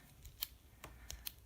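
Small scissors on a pocket knife snipping: three or four crisp, close metallic snips spaced unevenly over a short span, quiet and alone.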